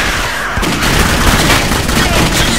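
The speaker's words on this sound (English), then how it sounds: "I'm just shooting a box while they fight" Rapid gunfire rips continuously through a busy game firefight in Clive Barker's Jericho, loud and dense, with a box being shot as combat rages around it.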